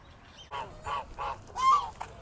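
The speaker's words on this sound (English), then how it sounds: "as you can hear, these geese are very noisy." Geese honk several times in a row, loud, nasal calls with short pauses between them, fairly close against a quiet background at Lady Bird Lake.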